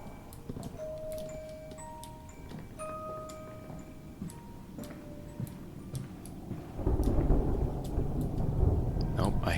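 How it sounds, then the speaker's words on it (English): Distant thunder rumbles in the video game Amnesia: A Machine for Pigs. Faint ticking and chimes give way to a low, swelling rumble near the end. "Oh, I hear thunder rumbling in the background."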